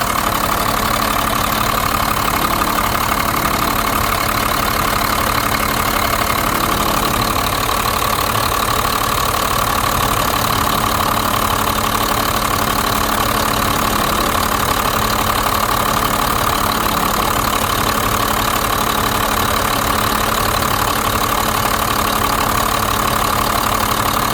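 A 1991 Blue Bird bus with a 5.9 two-valve diesel idles steadily after its fuel lines are replaced and bled, a loud, continuous low rumble with a constant hum and no talking.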